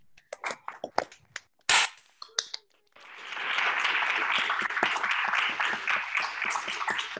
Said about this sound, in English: Guys, should we have one more round of applause?